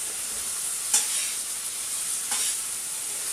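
Chicken pieces sizzle steadily in a frying pan, a dense hiss of hot fat, with two brief scraping stirs as the pieces are moved around. No one speaks.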